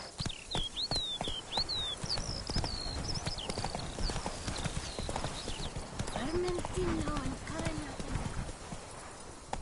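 Galloping horse hooves in The Witcher 3: Wild Hunt, a fast, close, rhythmic clip-clop that continues throughout, with high bird calls and a brief low vocal sound mixed in over the pounding steps.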